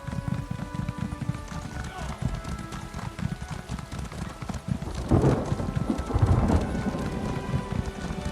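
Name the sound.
horse galloping in the video game The Elder Scrolls Online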